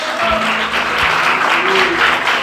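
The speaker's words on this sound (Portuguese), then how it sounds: "Você pode aplaudir o Senhor nessa noite?" Steady applause from a church congregation fills the space, a dense continuous patter with a preacher's voice faintly underneath.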